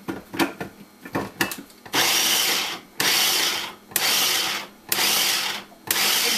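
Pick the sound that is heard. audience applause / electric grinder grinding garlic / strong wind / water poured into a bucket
electric grinder grinding garlic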